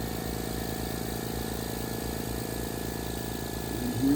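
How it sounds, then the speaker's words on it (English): A vacuum pump on a 5-liter rotary evaporator running an ethanol extraction drones steadily, a motor hum with a low rumble running continuously and evenly, loud and close, without pause. "And then we turn on the vacuum."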